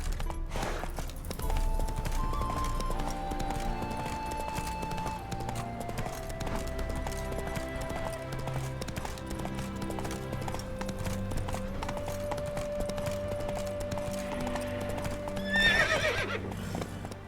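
Hooves of the horse Roach clip-clop steadily through The Witcher 3, with an occasional neigh, under a continuous game music bed and ambience.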